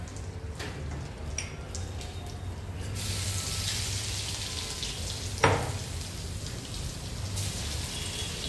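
Garlic sizzling in hot oil in a home kitchen pan, already seasoned with asafoetida: a steady close frying hiss with crackle, a sharp clatter midway, no talk.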